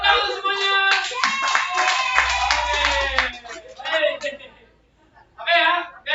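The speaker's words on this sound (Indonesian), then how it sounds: "Oke, tepuk tangan semuanya" A classroom group claps their hands together, a loud rapid patter of many hands mixed with children's chatter and laughter, fading into a pause before voices return.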